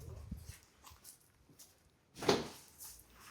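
A dog gives a few soft whimpers and a sharper short bark-like burst near the end, close and fairly quiet, with household rustling around it.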